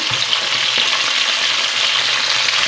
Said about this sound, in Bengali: মাছগুলো এবার ভাজতে হবে ভালো করে, সুন্দরভাবে কড়া কড়া করে মাছগুলো ভাজতে হবে